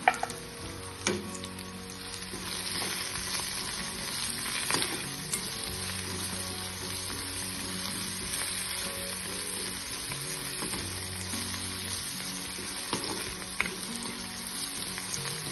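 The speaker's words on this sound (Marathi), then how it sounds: "कांदा, लसूण हे सर्व छान परतून घ्यायचे" Onion and garlic sizzle steadily in a hot pan with salt while being stirred for Khandeshi-style brinjal bharit, a continuous close frying hiss with occasional scrape and clink of the spoon, no talk.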